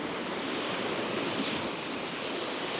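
Baltic Sea waves wash onto a cold, sandy beach in a continuous broad hiss of surf. The sound is fairly loud and steady throughout, with no voices.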